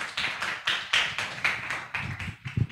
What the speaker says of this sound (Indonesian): Beri tepuk tangan untuk kelompok 1 ya.